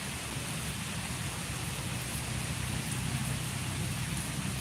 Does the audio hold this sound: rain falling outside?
yes